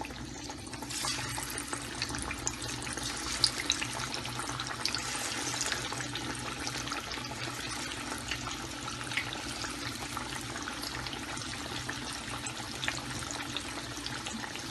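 Chana dal pakora batter, shaped flat by hand, fries in oil on a medium-low flame, producing a soft continuous bubbling hiss with faint crackles, fairly quiet and steady throughout, with no voices.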